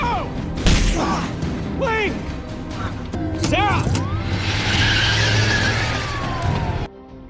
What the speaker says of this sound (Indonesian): Michael yang melihat Pop terancam langsung tancap gas.